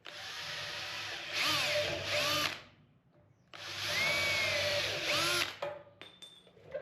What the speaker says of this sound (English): Let's drill some more.